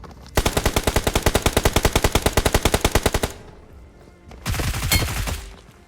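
Rapid automatic gunfire in BGMI/PUBG gameplay, a loud burst of roughly thirty evenly spaced shots lasting about three seconds, then a short pause and a second shorter, denser volley.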